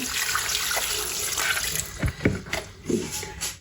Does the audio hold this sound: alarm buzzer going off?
no